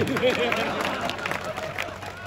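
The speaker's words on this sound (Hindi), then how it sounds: "एक बार जोरदार तालियां अपने घर की तुलसी के लिए" Audience applause and cheering at a Hindi comic poetry gathering in Bihar, a dense steady wash of clapping and crowd noise mixed with hubbub throughout.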